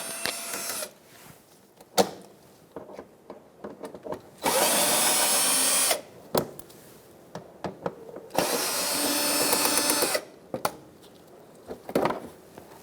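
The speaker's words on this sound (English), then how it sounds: "Using a Phillips head, we're going to take out these screws right here" Power drill backing out Phillips screws from the washer reservoir of a 2002-2006 Honda CR-V, two sustained whirring bursts between ticks and clicks of handling, close and fairly loud.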